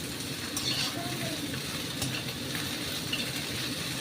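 Okra fries with egg in a pan, producing a soft, continuous sizzle at moderate distance with a low, even texture and no breaks.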